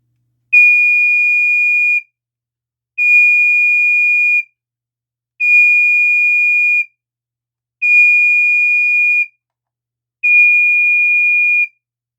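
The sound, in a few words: Pyrotector photoelectric smoke detector alarm sounding from its piezo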